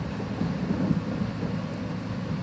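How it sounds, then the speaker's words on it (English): Rain falls in Farming Simulator 22, a steady, dense patter with low rumbling underneath, continuous and fairly loud throughout, with no talking. "And still raining"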